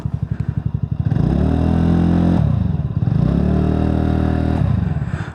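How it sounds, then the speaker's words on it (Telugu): A TVS Ntorq 125 scooter with a 124.8 cc three-valve air-cooled engine runs its exhaust just after starting: a close, steady idle putter that swells into two sustained revs, each easing back down, with no voices. "ఎగ్జాస్ట్ సౌండ్ వినండి."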